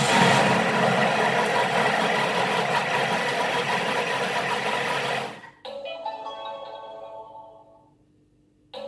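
A Thermomix kneads pizza dough at speed 5, a loud, steady whirring motor drone for about five seconds that cuts off abruptly, leaving a fainter mechanical hum that fades out.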